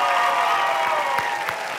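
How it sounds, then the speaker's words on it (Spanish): A television studio audience claps and cheers in a dense, continuous wash of applause on a late-night comedy show, loud and sustained throughout the short stretch. "El aplauso para Villalpando."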